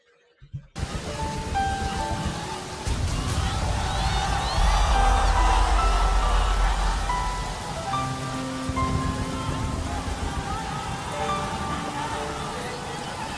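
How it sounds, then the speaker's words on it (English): Rain sound effect during a stage performance at a blind audition: a dense, steady hiss of rainfall with a low rumbling undertone swells in after a brief silence, loud and sustained beneath faint tonal music. "The rain."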